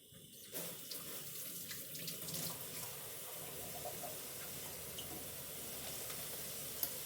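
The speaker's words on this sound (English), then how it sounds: "So now I am going to wash my hands" A kitchen tap runs in a steady, even stream as hands are washed during stuffed cabbage preparation, a close, continuous rush with no talking.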